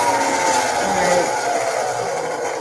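Electric mixer whipping homemade body butter, a steady close whirring drone at a moderate speed that runs without a break, with a voice faintly under it.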